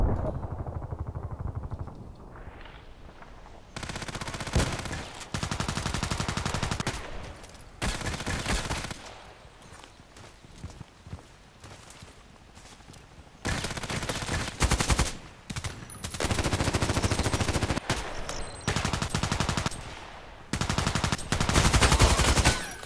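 SCAR-L rifle gunfire in a first-person shooter, repeated bursts of rapid shots separated by short pauses, loud and close, with brief quieter gaps between volleys.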